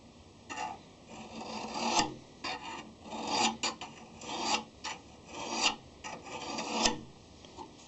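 A hand file rasps along the blade of a pair of pruning shears in repeated short strokes, each about a second long and coming in an irregular rhythm. The scraping is close and fairly quiet, with no talk.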